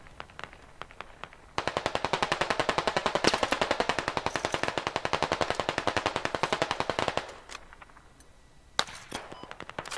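Sustained automatic machine gun fire in the military shooter game Squad, a long rapid burst of evenly spaced loud shots lasting several seconds, framed by a few scattered single shots before and after.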